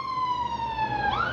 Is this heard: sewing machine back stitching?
no